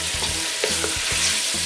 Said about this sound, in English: We only need to fry the pork pieces for a few minutes